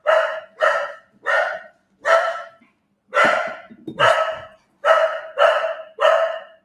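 Lola, a dog in a workshop unit, barks at a newly arrived visitor in a string of nine loud, close, evenly spaced barks with brief pauses between them.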